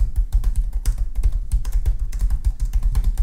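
Rapid, steady typing on an MSI GF63 Thin laptop keyboard, many crisp key clicks close up with no talking.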